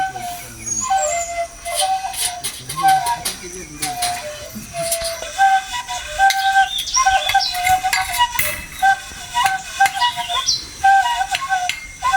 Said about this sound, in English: Beautiful sounds of the birds in the Homestead